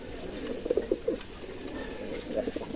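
Loft pigeons of a Bangladeshi breeding stock coo in a few soft, close bursts. The calls sit over steady background hiss and fainter rustling.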